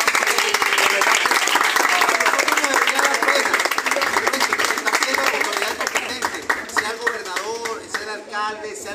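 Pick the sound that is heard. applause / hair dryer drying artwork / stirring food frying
applause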